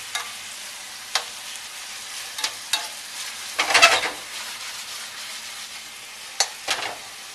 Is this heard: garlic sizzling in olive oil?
yes